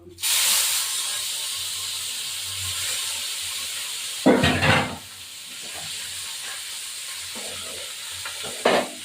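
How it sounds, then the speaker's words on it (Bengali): Chapila fish frying in hot oil, with a loud steady sizzle and hiss that flares sharply a couple of times as pieces are moved or stirred in the pan. "আর দুটো আছে এই দুটো ভাজবো"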